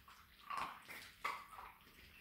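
A black tricolour female collie puppy gives two brief, high whimpers a moment apart, close by and fairly faint, with soft background noise between them.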